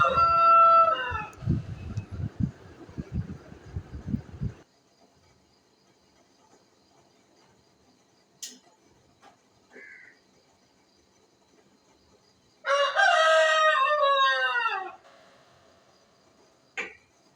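A rooster crows twice, once loudly at the start and again about twelve seconds later, with near silence between and a few faint clicks.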